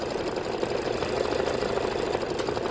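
An embroidery sewing machine stitching out a quilt block for a floral pillow runs close up with a fast, steady mechanical whir and rapid needle chatter, with no voices.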